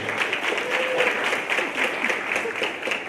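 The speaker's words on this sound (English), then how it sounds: "Let's give a round of applause for her courage and bravery." An audience gives a brief, steady round of applause for a student speaker at a social justice day event, the clapping even and continuous throughout.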